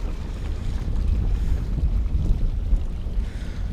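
Wind blows over San Diego Bay during boat fishing, buffeting the microphone with a constant low roar that gusts and swells throughout, with no voices heard.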